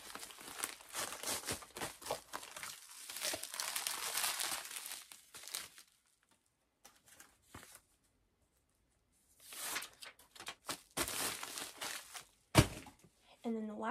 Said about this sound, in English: I just fold them up, put them in the poly mailer.